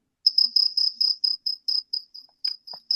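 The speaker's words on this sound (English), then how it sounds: "So I got unlimited supply of crickets" Crickets chirp close by in quick, regular pulsed trills, about a dozen bursts in a row, with nothing else heard.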